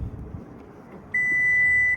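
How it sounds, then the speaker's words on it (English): Single steady electronic warning beep from a 2022 Toyota Highlander Limited's hands-free foot-activated power liftgate, a clear sustained tone with faint harmonics lasting almost a second over quiet outdoor background. "Gives me a warning beep, and it comes right up."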